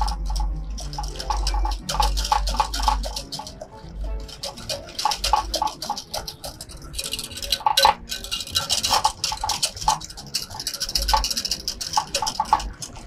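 An agar jelly mixture is whisked hard in a pot, giving continuous rapid clinking and sloshing scrapes that are fairly loud and close, with a low rumble underneath.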